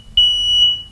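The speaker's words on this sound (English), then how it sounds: "And that'd be the fire alarm." A fire alarm gives a single loud, piercing high-pitched beep held for most of a second, close and clear over a quiet room.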